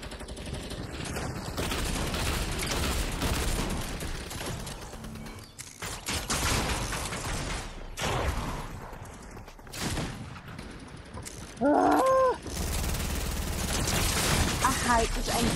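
Rapid pistol and gun bursts in a shooting video game's gun-game mode, a busy, dense fusillade of close shots with game effects, running under and between spoken voices.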